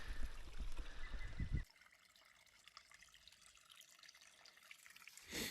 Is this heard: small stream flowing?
yes